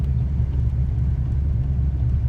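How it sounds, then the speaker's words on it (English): A Fox body Ford Mustang 5.0 V8 with an upgraded fuel pump cruises smoothly in third gear at about 25 mph, its deep, steady low rumble heard from inside the car without bucking. "Show them this, going 25 miles an hour in third gear, no bucking."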